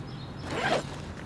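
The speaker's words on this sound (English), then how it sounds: "Zip off the front awning" A zipper is drawn along the front sun awning of a 2009 Combi Camp Valley camping trailer tent, one continuous close rasp that swells toward the middle and fades, with no talking.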